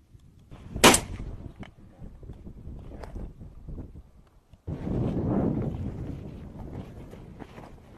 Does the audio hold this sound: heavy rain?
no